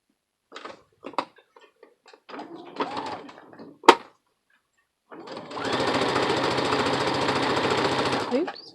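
A few clicks and taps, then a sewing machine stitches pin tucks steadily for about three seconds, a dense continuous buzzing stitch at close range.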